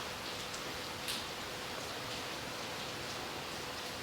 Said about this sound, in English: of the sounds of the rain.